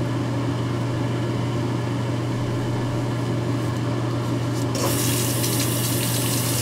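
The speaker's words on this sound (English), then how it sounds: "Now I always rinse my razors under hot water to get the blades hot" Hot tap water runs steadily into a sink while a Gillette razor is rinsed under it, a continuous close hiss with a low hum, brightening sharply near the end as the flow changes.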